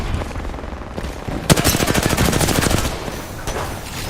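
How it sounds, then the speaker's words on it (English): Missiles firing in a video game: a rapid, loud burst of repeated firing for about a second and a half, with quieter rumble before and after, no talking. "Box 3 firing missiles."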